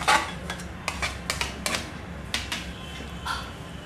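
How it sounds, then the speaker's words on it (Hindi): Face pack ingredients tipped and scraped into a small bowl, a quick run of light clinks and taps from a spoon against the dish, close and fairly crisp, no voices. "और अब हम इस सारी चीज़ को एक प्याली में डालेंगे"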